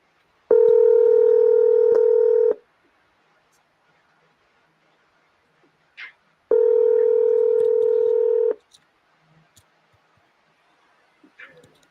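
Telephone tones during a live call with a property seller, two long steady ringing or dial tones about two seconds each separated by a pause, clear and close, with a few faint clicks between.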